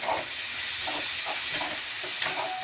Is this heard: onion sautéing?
yes